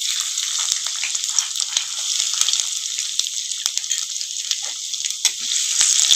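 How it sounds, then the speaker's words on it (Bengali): Chopped garlic with black cumin frying in oil for a Bengali teasel gourd recipe, a bright, even sizzle with scattered small pops and crackles, close and continuous. "রসুনের কুচিগুলো একটু ভেজে নেবো।"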